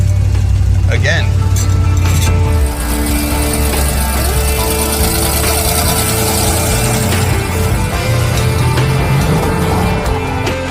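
A 1969 Ford Mustang Mach 1 engine revs loudly and steadily for about ten seconds in a failing burnout attempt, a continuous low rumble that shifts pitch partway through.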